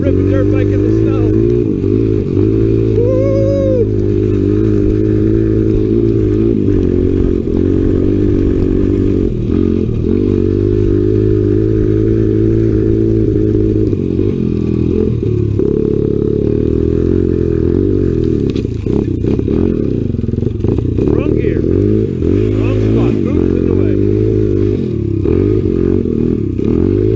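A Honda XR 100 dirt bike engine runs in snow, a loud continuous close-up drone with uneven revving and some clattering, while people talk over it.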